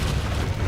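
A Confringo spell blast in Hogwarts Legacy rumbles out as a dense, low, booming explosion that fills the whole brief moment with heavy, sustained rumble.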